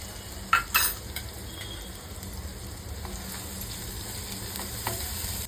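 Homemade Bhandari masala frying with prawns and colocasia in a pan, a soft, steady sizzle close by with two sharp utensil clinks early on and faint stirring scrapes throughout.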